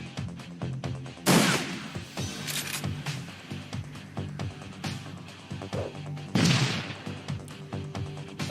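Two heavy grenade blasts in the tactical game Shadowrun Returns, each a sudden loud burst with a booming low body, spaced several seconds apart over a busy background of clanks and scattered shots.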